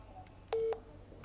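Two short telephone keypad tones sound close to each other, with a single steady tone between them, over a quiet background hiss. The whole sequence is brief and nobody speaks.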